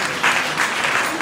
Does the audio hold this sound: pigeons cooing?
no